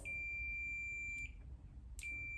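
Multimeter continuity tester giving a steady high electronic tone, one long beep and then a second starting after a short gap, clear and close over low background hum.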